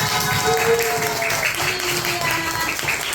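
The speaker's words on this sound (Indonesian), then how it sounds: "terima kasih, tepuk tangan semuanya" Applause from a group of children in a school classroom, a steady patter of many hands clapping together with some whistly tones and chatter mixed in.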